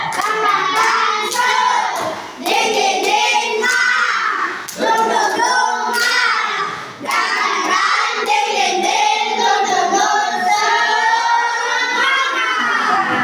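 A classroom of students performs the rhythmic 'tepuk semangat' clap, with patterned bursts of hand claps and brief pauses between them, while the children chant along loudly.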